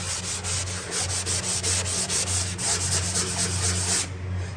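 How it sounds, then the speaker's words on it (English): A sander scrapes back and forth along a drywall corner in steady, rhythmic rubbing strokes, close and fairly loud, before stopping near the end. "I gotta come through with my sander and knock all that stuff off"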